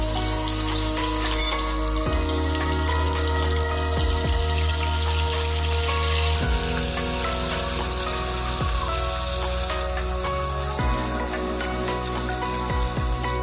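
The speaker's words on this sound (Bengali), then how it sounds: "এবার তেল গরম হলে মাছগুলি কড়াইতে দিয়ে দেব।" Bhola fish frying in hot oil in a wok gives a steady, close crackling sizzle that runs unbroken through the whole stretch, with a soft tonal musical bed underneath.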